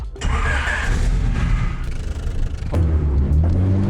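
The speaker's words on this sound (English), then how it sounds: "And now let's start this thing up, let it warm up, and take it for its first drive around the block." A turbocharged Honda Civic engine cranks and fires up: rough churning and rumble at first, then the engine catches with a sudden surge near the end and settles into a loud, steady idle.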